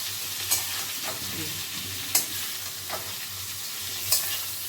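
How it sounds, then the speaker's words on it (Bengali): Potato and pointed gourd sizzle steadily in a pan, and a spatula scrapes through them in brief strokes at intervals of about a second or two. "এই দেখুন আলু পটলটা একটু ভাজা ভাজা হয়ে গেল।"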